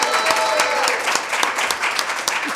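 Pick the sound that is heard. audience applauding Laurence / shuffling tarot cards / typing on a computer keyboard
audience applauding Laurence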